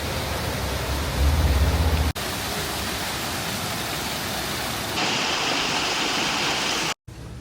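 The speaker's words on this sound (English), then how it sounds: "there is immediately a very beautiful waterfall" Steady broadband rush of a waterfall near Interlaken, Switzerland, continuous and loud, with a brief cut near the end before the roar resumes.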